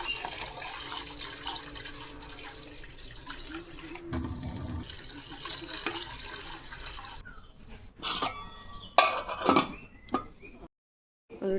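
Water from a tap runs steadily into a vessel of khesari dal to soak it in a home kitchen, a continuous splashing stream that later breaks into shorter gushes and clatter before stopping.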